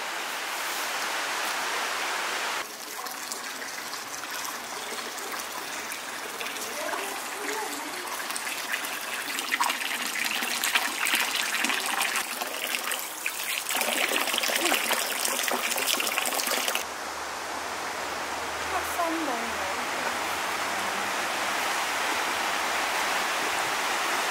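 River water flowing beside Baden Old Town near its bridge, a steady broadband rush and gush that runs continuously and fairly loud, with a slight shift in texture partway through.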